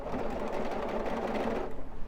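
A sewing machine stitches a quilt binding with a steady, fast mechanical whir close by that runs unbroken for about two seconds before slowing and stopping.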